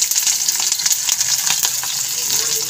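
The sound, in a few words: chopped onion frying in hot oil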